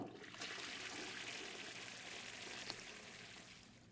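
A toilet flushing in Denizen Life Simulator, a faint, steady rush of water draining for several seconds with no talk.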